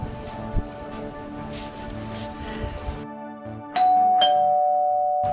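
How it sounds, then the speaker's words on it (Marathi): A doorbell gives a two-tone ding-dong chime after a stretch of indoor background noise, sounding clear and close with a ringing tail, alone without talk. "बेल वाजली, कोण आले बघ बरं"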